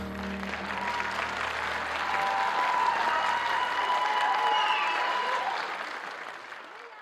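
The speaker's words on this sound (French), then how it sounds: "Applaudissez ces danseuses qu'elles ont merveilleusement dansé cette danse" An audience at a school's end-of-year show applauds dancers, sustained clapping swelling toward the middle, with some cheering and a faint voice, then slowly tapering off.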